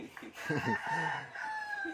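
A rooster crows nearby in a rural countryside setting, a loud stretched cock-a-doodle-doo with a rising and falling tone and a short cluck-like start, heard alone in the open air.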